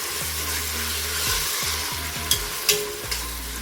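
Chopped onions fry loudly in a pan while a spoon stirs them, a steady close sizzle broken by repeated scraping strokes and a few sharp knocks near the end.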